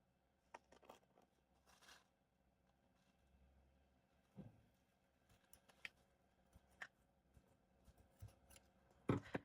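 Scissors snip crochet yarn while finishing a fringed crochet top, producing a series of faint, sparse, close clicks and short cuts spread across a quiet room, with a louder snip near the end.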